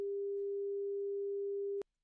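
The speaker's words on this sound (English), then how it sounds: "we have a sig, which is a sine wave at 400 hertz" Steady pure 400 Hz sine tone generated in SuperCollider, loud and unwavering, holding for almost two seconds before cutting off abruptly into silence.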